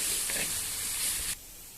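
Potatoes and peas sauté with masala in a hot pan, a steady bright sizzling hiss that carries on for over a second and then cuts off abruptly, leaving quiet.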